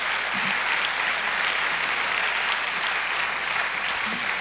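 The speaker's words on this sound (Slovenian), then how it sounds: "In vabim vas k aplavzu za podjetje 3FS in direktorja Andraža Logarja." Dense, steady applause fills the hall at a business award ceremony, a large audience clapping continuously and loudly without pause.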